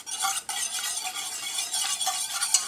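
Steady scraping and swishing of a utensil stirring a caramel nougat mixture in a saucepan, close and continuous with faint clinks, no talking.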